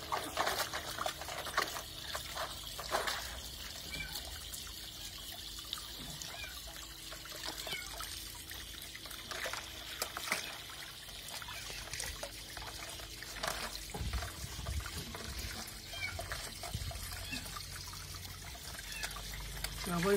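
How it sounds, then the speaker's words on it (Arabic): Tap water trickles and splashes steadily for a fox's bath, running under intermittent talking and small handling noises throughout. "افتح المية الحين."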